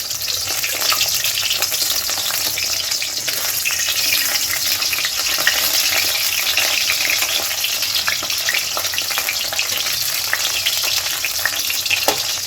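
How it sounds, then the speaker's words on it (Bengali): Mushroom pakoras fry in hot oil, sputtering and bubbling as water escapes from the mushrooms, a loud, close, unbroken crackle that holds steady throughout. "মাশরুমে একটু জল থাকে না, ওই জন্য ফুটছে।"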